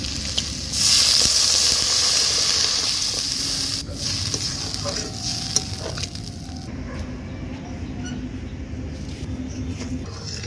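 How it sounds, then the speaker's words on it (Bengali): Water poured into a sizzling potato and pea curry in a pan, giving a sudden loud hiss and bubbling that slowly settles into softer frying, with no talk. "এবার আমি উপর থেকে দিয়ে দেবো পরিমাণ মতো জল"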